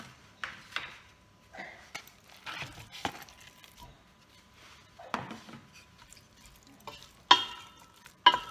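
Chopped onion and meat frying in a mix of olive oil and table oil for an artichoke tajine, a moderate sizzle broken by repeated scraping stirs of the pan.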